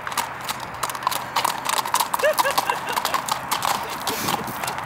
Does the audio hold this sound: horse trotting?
yes